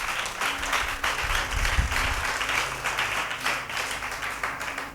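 A church congregation applauds together in steady, continuous clapping that fills the room at moderate loudness, with a few voices faintly mixed in.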